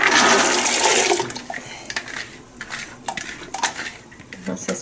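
Water poured from a container into a pot holding corn for pozole, a loud gushing splash at first that tapers into clinks and scattered drips and clatter of kitchenware.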